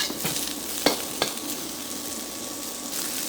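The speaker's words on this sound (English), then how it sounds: "Fry them for about a minute or so till they're all fragrant." Aromatics such as the white parts of spring onions fry in a pan for a salmon stir fry, giving a steady close sizzle with a couple of brief stirring scrapes.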